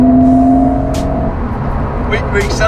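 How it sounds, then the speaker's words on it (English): A car pulls in sixth gear, its engine droning in a steady, low, gradually rising note heard from inside the cabin, loud and close, while people talk over it. "So this test is a 6th gear pull"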